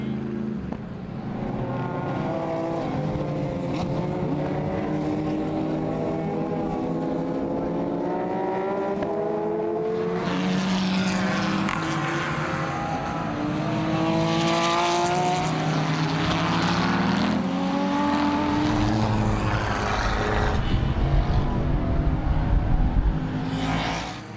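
GT race cars, including a Porsche 911 and Mercedes SLS, roll through the rolling start of the 24H Barcelona endurance race, a sustained engine drone rising and layering as more cars pass nearby.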